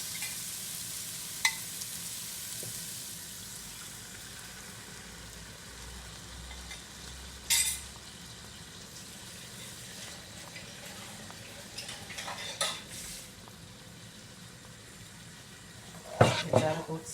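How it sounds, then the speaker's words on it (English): Coconut milk poured into a hot pan for a fish curry in butter sauce and stirred, a low steady sizzle with a few sharp clinks and scrapes of the spoon, fairly faint and close. "I'm going in now guys with my coconut milk"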